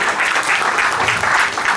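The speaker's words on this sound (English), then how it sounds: "Big round of applause for class 8A." A school assembly crowd gives class 8A a big round of applause, dense and loud clapping from many students filling the whole moment evenly.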